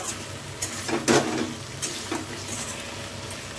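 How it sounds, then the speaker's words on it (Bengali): Spices stir-fry in a pan for paneer biryani with a steady close sizzle, broken by a few louder scrapes and stirs, and no talking. "একটু মশলার সাথে ভালো করে কষিয়ে নিচ্ছি"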